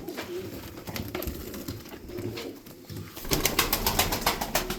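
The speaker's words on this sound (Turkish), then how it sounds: "Kuşlar sağlıklı abiler." Tumbler pigeons coo close by in soft, repeated throaty calls, with a burst of wing flutter or rhythmic pulses near the end and no talking.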